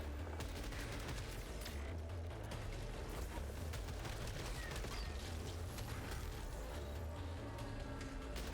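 Turrets in the video game Returnal fire dense, continuous volleys of rapid energy shots amid booming explosions, a loud, chaotic barrage filling the whole stretch.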